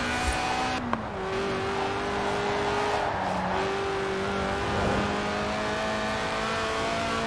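Car engine roars steadily in Forza Horizon 4 with a drawn-out tire squeal as the car drifts, tonal whine sliding in pitch over a constant loud drone, no voices.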